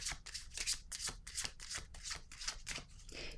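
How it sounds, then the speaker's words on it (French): Playing cards being handled on a table make a quick series of soft papery flicks and snaps, close and quiet, with no talking. "Je vais déposer une carte ici."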